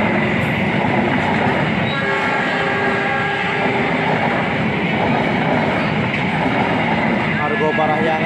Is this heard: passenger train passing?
yes